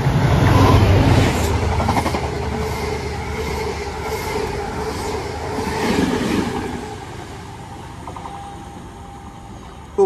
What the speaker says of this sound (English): Comes the 68 Hold locomotive to Birmingham Moor Street from London Marylebone.